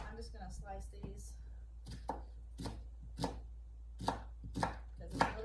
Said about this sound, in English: There's different ways to cut onions. I'm just gonna slice these